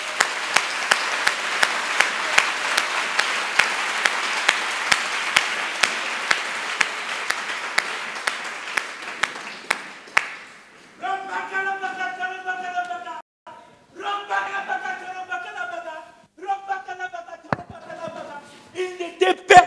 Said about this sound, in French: Applaudissez pour ces gars.